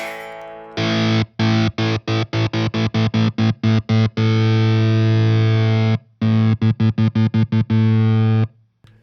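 An electric guitar on its bridge pickup, heavily distorted, strums a loud riff of rapid choppy stabs with abrupt cut-offs and a few longer sustained chords, without any voice.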